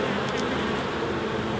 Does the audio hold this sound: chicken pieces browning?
no